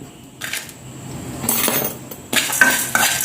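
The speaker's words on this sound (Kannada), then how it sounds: "ಸ್ವಲ್ಪ ಡ್ರೈ ರೋಸ್ಟ್ ಆದರೆ ಸಾಕು ಗೋಡಂಬಿ ಎಲ್ಲ ಸ್ವಲ್ಪ ಬಿಸಿ ಆದರೆ ಸಾಕು" Cashews, coriander seeds, cumin and fennel dry roast in a pan for biryani, heard as scraping and clinking of a metal spoon against the pan, in irregular bursts that grow louder toward the end.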